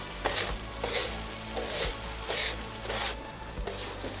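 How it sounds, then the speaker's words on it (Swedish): A spatula scraping browned bits off a hot griddle plate while food fries, rhythmic scrapes repeating about every half second over a steady, close sizzle, no voices. "Vi ser vad lätt jag skrapar upp det från stekhällen."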